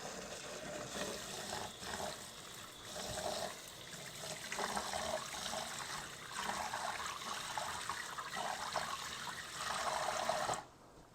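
Water pours and trickles steadily off washed basmati rice into a sink while the rice is drained between rinses, a continuous splashing stream that swells and eases in waves and stops abruptly near the end.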